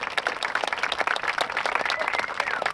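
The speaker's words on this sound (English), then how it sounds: "I think that deserves a round of applause." A crowd bursts into loud, sustained applause, many hands clapping densely with some voices mixed in.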